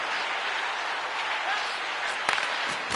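An arena crowd roars steadily in an NHL 25 hockey game, a dense, wide wash of cheering that runs throughout beneath a commentator's voice, with a brief burst near the end.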